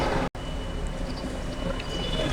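A train rushes past close by on a railway line in Dhaka, a loud continuous roar with rattling wheels that barely breaks for a moment, and faint talk somewhere beneath it.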